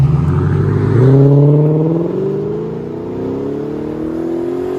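An Infiniti Q70S 5.6L V8 with Flowmaster Outlaw exhaust revs up with a deep, throaty roar, then settles back toward a rumbling idle, loud and close.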